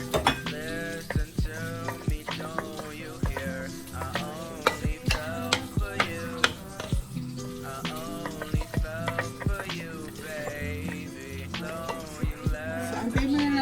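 Pork mask sizzles steadily as it fries in a pan for sisig, with occasional utensil clinks and music playing throughout.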